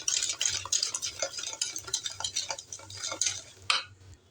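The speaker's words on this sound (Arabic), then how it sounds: "وندوب بقى السكر مع البيض كويس أوي" Eggs and sugar being whisked together in a bowl for cake batter: a steady run of quick, scraping metallic strokes close by, continuous and fairly even, with no talking.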